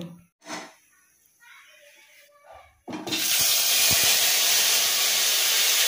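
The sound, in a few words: bottle gourd and coriander leaf paste sizzling in hot oil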